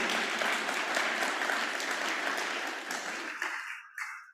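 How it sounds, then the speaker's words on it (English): Summit audience gives a round of applause for a baby, a full, sustained burst of many hands clapping that holds steady, then thins out and stops with a few last scattered claps. "Can we get a round of applause for baby Oliver?"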